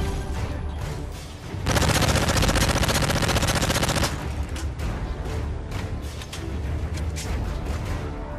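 A PP90M1 submachine gun in Modern Warfare 3 rattles out a dense sustained burst, followed by further shorter bursts and scattered in-game gunfire and booms in the background.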